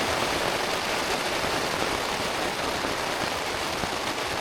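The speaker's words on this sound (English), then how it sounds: "quite a bit of rain falling" Heavy rain falls steadily outdoors, a dense, even hiss that holds at the same level throughout with no talk over it.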